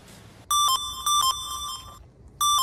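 A phone ringtone sounds during a Sylheti drama scene: loud, bright electronic tone bursts repeat in a quick melodic pattern, break off briefly, then start again, with no voices.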